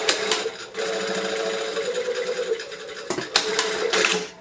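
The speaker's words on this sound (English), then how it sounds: "And I'm just going to sew across at 3/8 of an inch seam allowance." A domestic sewing machine stitches a 3/8 inch seam with a 2.5 straight stitch on a dress, giving a close, steady whirring hum with a rapid needle clatter, briefly pausing and then starting again.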